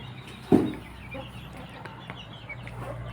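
Three-month-old chickens on a poultry breeding farm cluck, with one sharp, loud cluck near the start followed by softer scattered clucking over a low background murmur.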